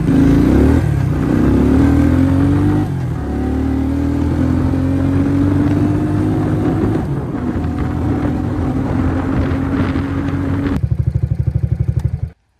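A Suzuki KingQuad ATV engine runs in first gear, low range, loud and close, its steady drone rising in pitch as it pulls away, then settling to a clattering idle at the end.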